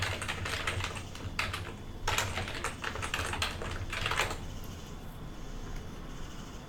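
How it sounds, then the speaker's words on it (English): Rapid clattering keystrokes on a computer keyboard, typed in quick bursts with brief pauses, fairly close, over a low steady hum, fading to quiet typing near the end. "I'm going to type it in"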